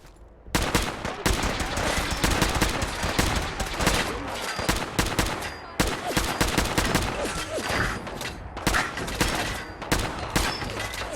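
Assault rifle firing in Fallout 4, loud rapid shots in sustained bursts with brief pauses, close and dominant with no talk over it.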